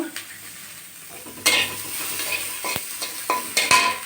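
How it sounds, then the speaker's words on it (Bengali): Garlic cloves dry-roast in a hot wok with no oil, giving soft sizzling interrupted by sharp scraping clatters of a spatula against the pan, several irregular knocks at close range. "আমি শুকনো খোলাতে এই যে রসুনগুলো প্রথমে একটু টেলে নিচ্ছি"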